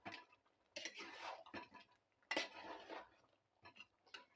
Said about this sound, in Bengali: নেড়ে চেড়ে দিচ্ছি।